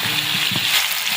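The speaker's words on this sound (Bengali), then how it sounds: "এই যে দেখুন আমি 5 থেকে 7 মিনিট ভালো করে কষিয়ে নিয়েছি।" Country chicken and local potatoes sauté in spiced oil in a wok, giving a steady close sizzle with a few soft stirring scrapes and no voices.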